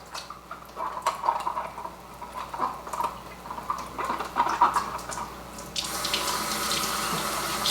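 A tap runs water to rinse a CPAP mask at a sink, a steady hiss with splashing that grows fuller and louder near the end as the flow hits the mask.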